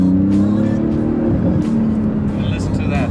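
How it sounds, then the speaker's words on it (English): A 2019 Porsche 911 GT2 RS engine revs loudly and steadily up close after a downshift, a continuous throaty drone with shifting pitch, while a person talks over it. "Let's shift down"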